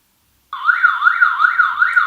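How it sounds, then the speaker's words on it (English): A home security system's electronic alarm siren starts abruptly and wails in a steady, repeating up-down sweep, loud and close, with no voices. "So there is the alarm on our camera"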